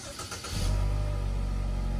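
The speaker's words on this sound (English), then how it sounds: "So we're just gonna go ahead and start the car and see how it looks." A Chevy Equinox engine cranks briefly and catches at about half a second, then settles into a steady, close, loud idle rumble that holds to the end.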